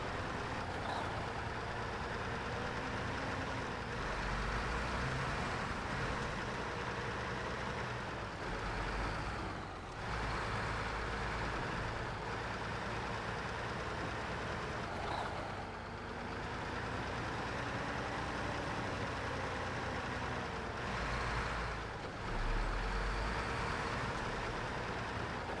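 A truck drives in the SnowRunner video game, its engine droning steadily and loudly for the whole stretch with slight rises and dips in revs and occasional clunks, and nobody speaks.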